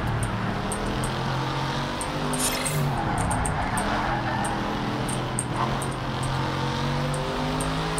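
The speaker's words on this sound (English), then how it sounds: "Everybody loves the sound of a good V8." A steady, throaty V8 car engine drone in the racing game Project Cars 3 runs throughout at moderate level, with a slight pitch sweep midway, no speech.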